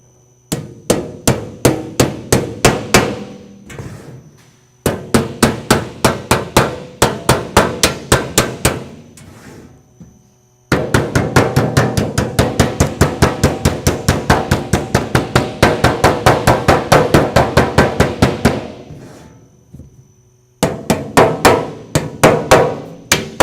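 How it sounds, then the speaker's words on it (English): Sheet metal hammer tapping over the edges of a Colorbond steel rainhead, with sharp metallic strikes in fast, steady runs of a dozen or more blows, close and loud, broken by short pauses. "it's a good idea to have one of these sheet metal hammers"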